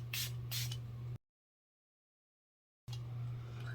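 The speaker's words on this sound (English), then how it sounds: "finish off the look with our peach scented Make It Last spray by Milani. So we're going to go ahead and put that all over." Two quick hissing bursts of a peach-scented Milani Make It Last setting spray misted over the face, close and fairly loud over a steady low hum, then a gap of silence.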